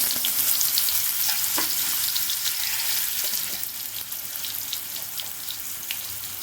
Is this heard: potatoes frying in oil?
yes